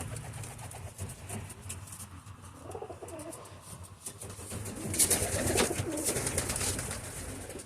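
Soft, low cooing of pigeons in a loft repeats against a hushed room tone, with occasional rustles and a brief flutter of wings growing louder near the end.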